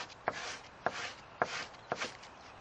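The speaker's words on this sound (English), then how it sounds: "you just keep scraping away until you get that chafe off of there" A blade scrapes along a yucca leaf to strip its fibers, four evenly spaced, rasping strokes, close and quiet, with soft friction between them.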